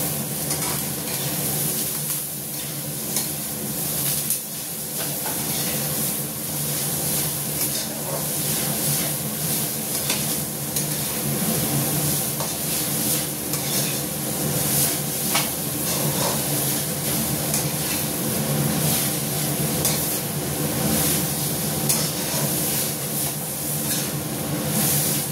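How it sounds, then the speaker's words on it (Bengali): Grated coconut is stirred in a hot frying pan, giving a continuous sizzle and steamy hiss with soft scraping of the utensil against the pan, close and steady throughout. "দিয়ে এবার এটাকে নেড়ে নেব।"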